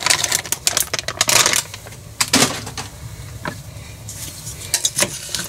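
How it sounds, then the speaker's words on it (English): Green beans tumbling out of a bag into a crock pot, a burst of rattling, clattering hits that come and go in short clusters, close and fairly loud over a low background hum. "Dump in our bag of green beans."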